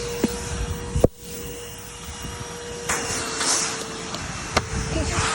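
A Henry Hoover vacuum cleaner runs with a steady, loud whooshing drone, broken by a few sharp knocks and bumps close by.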